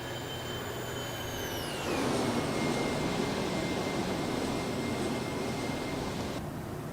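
The jet engines of an iniBuilds Airbus A310 rush past in an X-Plane 11 flyby at cruise altitude: whining tones sweep downward as the aircraft passes, leaving a steady broadband roar that cuts off near the end.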